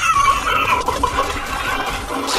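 Chicken clucking in the video game Fortnite, a busy run of fowl calls sounding close and steady, with game noise layered underneath and no talk.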